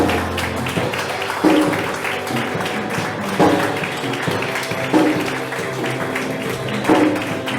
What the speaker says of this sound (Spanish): yo le quiero pedir que dé un fuerte aplauso, que pueda dar